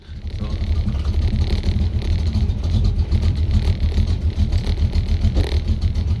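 A Chevrolet Vega's engine drones loudly and steadily during a ride, heard from inside the car as a continuous low rumble with a faint pulsing texture and no clear breaks.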